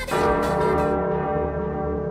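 Large bells ring out together in a rich, sustained chime, loud and resonant, the tones lingering and slowly fading.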